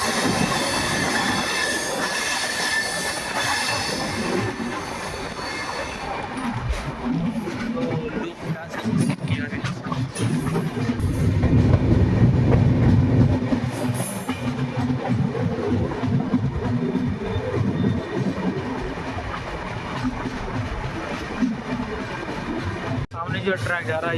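The Lucknow Double Decker Express, train 12583/84, rolling along the tracks toward Ghaziabad, with a steady loud rumble, wheel squeal and rattling carriages heard from inside, while someone talks over the noise throughout.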